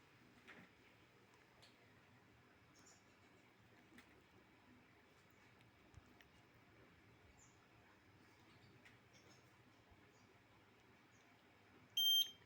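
A generator ATS panel alarm sounds after a failed start: a very quiet room with faint, scattered short beeps, then a sudden loud alarm tone at the very end.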